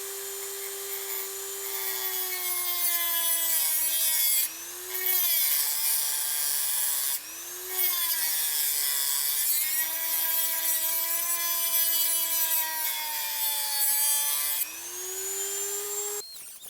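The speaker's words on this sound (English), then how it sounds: "we have to do that by cutting a little divot in with a Dremel" A Dremel rotary tool cutting a divot into the old wheel bearing race of a 2002 Acura TL-S front hub, a high steady whine that dips in pitch under load, pausing briefly a few times, close and loud with no talk.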